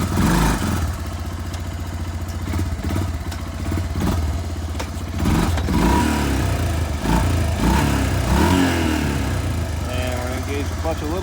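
An ATV engine runs steadily at close range, with a mechanical clatter and rising revs as the clutch is worked and gears are shifted, while someone talks over it.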